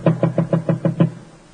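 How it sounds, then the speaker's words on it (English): Seven quick, even knocks sound on a hotel suite door at 4 a.m., firm and close, with a short pause after the last knock and no voices. "someone knocked at my door"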